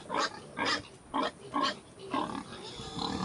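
Pigs and young piglets on a small farm grunt in a steady run of short, close, moderately loud snorts spaced about half a second apart.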